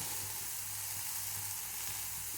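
Mint leaves sauté in a hot pan with a steady, even sizzle close up, no voices.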